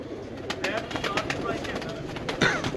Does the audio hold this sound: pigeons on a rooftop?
yes